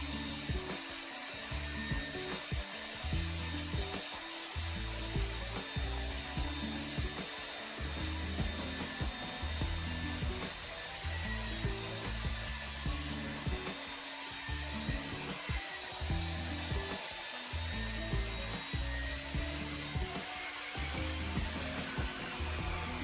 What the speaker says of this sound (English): sanding will make quick work of it